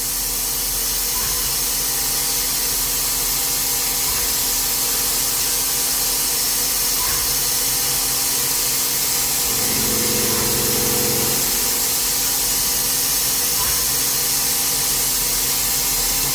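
A FANUC Robodrill CNC machine runs a rigid tapping cycle, a steady loud mechanical hum and coolant hiss with faint periodic clicks and a brief lower-pitched drone midway.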